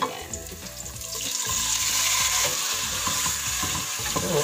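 Chicken breast meat sizzles steadily while frying in a pan for macaroni soup, a loud, continuous crackling hiss with occasional stirring scrapes and no talking.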